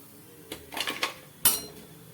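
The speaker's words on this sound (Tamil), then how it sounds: "இதை இப்போ வேறு பிளேட்டுக்கு மாற்றி வச்சுருவோம்" Fried laddu batter shifted onto another plate: a few close metallic clinks and scrapes of utensil against dish, ending in one sharper clatter, in an otherwise quiet kitchen.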